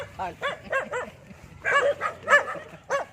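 Several dogs bark in quick, uneven bursts nearby, with a couple of higher yips mixed in, and a short lull between the two rounds of barking.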